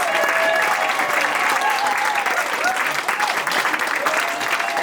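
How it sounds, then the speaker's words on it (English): Audience at a London film premiere Q&A applauding loudly and continuously, a dense wash of clapping from a large crowd that fills the whole stretch without letting up. "Can we have another round of applause for"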